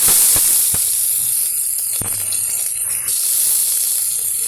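Onion frying in hot oil, a loud steady hiss of sizzling with a few sharp pops and clicks, close and unbroken.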